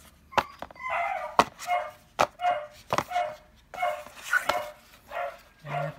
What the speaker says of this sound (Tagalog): Yung aming aso sa labas. Tahol lang tahol.